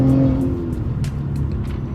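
A tuned Audi A6 with the 3.0T engine, Stage 2 APR tune, dual pulley, intake and exhaust mods, pulls hard under acceleration, giving a steady, close engine drone that holds for two seconds with no talk.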